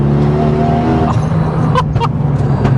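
Modified Renault Megane RS track car in sport mode, its engine revving hard and loud under acceleration, a continuous rising roar with brief clicks and a squeal or two mixed in, heard close from inside.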